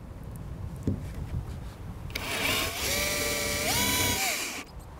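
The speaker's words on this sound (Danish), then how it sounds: "Så tager vi først fra den ene side her." A drill bores a hole through a wooden board from one side, starting with a faint tap, then a steady loud whirring grind with shifting pitch for about two and a half seconds before stopping.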